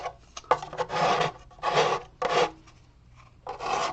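Paint is scraped off a surface in a few loud, close, rasping strokes, each about half a second long, separated by brief pauses, with no talking.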